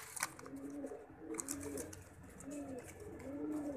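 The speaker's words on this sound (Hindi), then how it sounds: "क्या कबूतर है भजन, चिट्टे पल्लों के साथ है।" A white-winged pigeon coos in soft, repeated rolling phrases, close by and fairly quiet, with light background noise.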